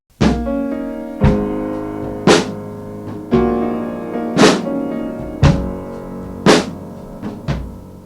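Piano notes and chords picked up by a ribbon room microphone moved next to the instrument, about eight separate struck attacks arriving roughly once a second, each ringing out richly before the next, with no talking.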